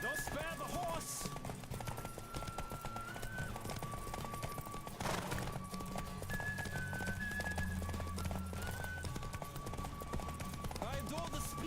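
Horse galloping in The Witcher 3: Wild Hunt, a steady clip-clop of hooves running continuously under game music and a voice talking, with a brief whinny near the start.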